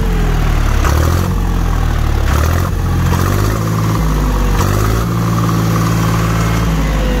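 A 45 hp tractor engine rumbles loudly up close, with a few surging revs early on before settling into a steady, throbbing idle.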